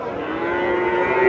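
Large Sahiwal bull at a cattle market giving a single sustained moo that rises slightly in loudness, close and strong, with no talking over it.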